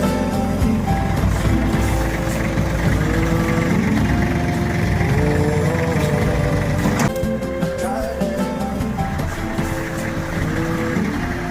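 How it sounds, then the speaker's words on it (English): A heavy tractor engine runs loud and steady nearby on a farm, a continuous rough mechanical drone with no pauses. "I'm gonna run this bad boy tractor to carry it."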